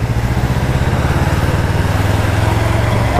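A Yamaha R3 320cc sports motorcycle engine runs close by, a steady rhythmic throbbing idle that stays loud and even for the whole moment, with no talking.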